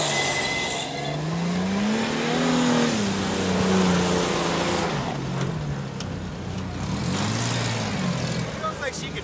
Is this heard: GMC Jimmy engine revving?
yes